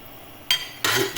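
A metal ladle clinks against cookware at a home stove while an okra omelette is made, giving a few sharp, close knocks in quick succession with no talk.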